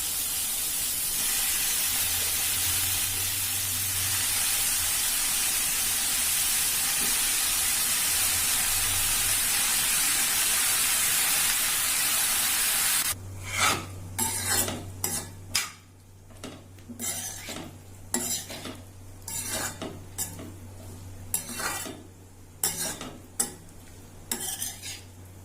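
Tomatoes sautéing with mint and curry leaves for a Nagercoil-style mint tomato chutney: a loud hissing sizzle at first, then quieter frying under repeated clanking spatula strokes against the pan.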